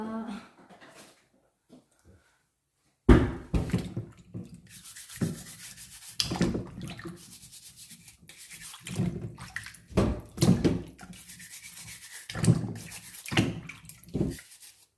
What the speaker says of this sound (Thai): เดี๋ยวเอาแปรงขัดดีกว่า